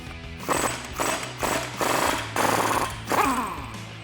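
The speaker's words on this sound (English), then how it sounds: "is loosen up our axle nut" Rear axle nut on a 2015-2025 Ford Mustang being loosened with a power tool, in five loud close rattling bursts of about half a second each, separated by short pauses, with a faint background hum.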